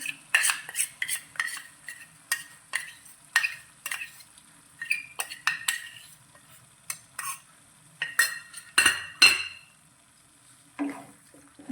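A spoon stirs masala paste with yogurt into gravy in a pan over a low flame, giving repeated scraping and clinking strokes against the metal with a faint sizzle underneath, in quick irregular bursts.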